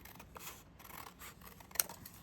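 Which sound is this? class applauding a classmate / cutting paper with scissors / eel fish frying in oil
cutting paper with scissors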